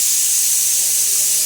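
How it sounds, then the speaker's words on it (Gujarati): Asafoetida, mustard seeds and cumin hit hot oil for tempering, giving a loud, continuous close-up sizzle and hiss that stays steady for the whole brief moment. "અહીંયા હિંગ નાખી, દાણા જીરું ના રાઈ જીરું નાખ્યા."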